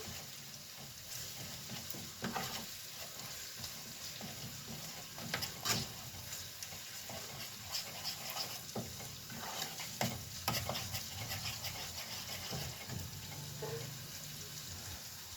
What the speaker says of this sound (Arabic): نفضل نقلب كده لحد ما تصفر بس التومة معانا